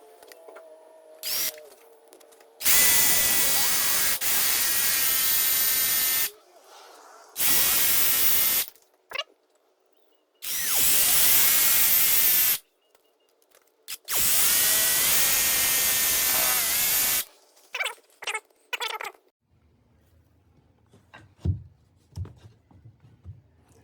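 Jigsaw cutting wooden closet trim in a bedroom, several loud bursts of cutting a few seconds each with short pauses between, followed by quieter handling noises at the end.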